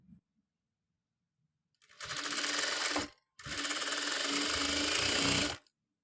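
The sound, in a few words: sewing machine stitching dori for long gown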